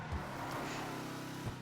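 The Deluxo's engine in GTA V plays as a short, steady motor hum with a couple of low bumps, fairly quiet and with no talk over it.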